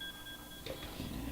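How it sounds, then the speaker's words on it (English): A steady electronic alarm tone holds for over half a second, then gives way to muffled clatter and low rumbling noise. "so that's my alarm"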